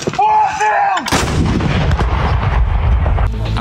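An American M777 howitzer fires a single deafening, close artillery shot, preceded by a brief tonal whine, followed by a long rumbling blast and fading echo.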